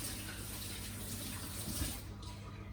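Hands washed under a running kitchen tap: a steady close stream of water with soft splashing that thins out near the end, no speaking.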